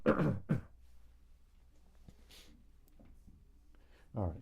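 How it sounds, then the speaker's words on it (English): A person clears their throat twice, a short rough burst at the start and another near the end, with a quiet stretch of faint background between them. "I'm going to clear my throat again"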